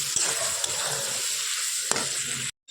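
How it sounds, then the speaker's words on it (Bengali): Curry sautéed with spices in a pan gives a continuous loud sizzle with a few sharp stirring clicks, then cuts off abruptly near the end. "মশলা দিয়ে কষাই"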